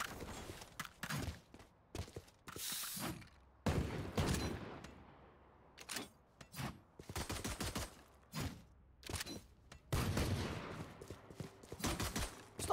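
Gunfire in the tactical shooter Valorant, with bursts of rapid automatic shots and single sharp cracks coming in separate clusters, broken by short quiet gaps.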